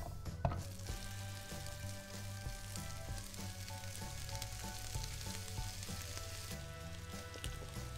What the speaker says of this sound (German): Dann den Pancetta hinzugeben und die Würfelchen kross